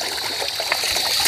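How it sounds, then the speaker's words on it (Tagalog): Water trickles steadily while clothes are rinsed by hand outdoors, a close, continuous running dribble with faint splashes and no voices. "sabi ni Tatay Ronnie, ang sayado naman ito ng tubig magbanlaw."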